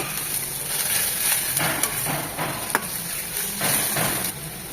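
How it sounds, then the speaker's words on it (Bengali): Onion paste frying in a pan for a restaurant-style roasted rohu fish curry, a steady crackling sizzle with a few scraping stirs and light clicks on top, no voices. "পেঁয়াজ বাটাটাও 2 মিনিট ভেজে নিয়ে দেখবো কালারটা চেঞ্জ হয়ে এসেছে"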